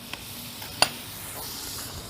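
Butter sizzles in a cast iron pan with a soft, steady hiss, broken by one sharp clink of metal near the middle.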